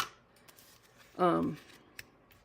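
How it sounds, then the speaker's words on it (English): A single brief scissors snip trimming excess paper in a card-making craft session, heard close and quiet with a soft tap afterward. "I'm going to come up that edge of that Old Olive and snip that off"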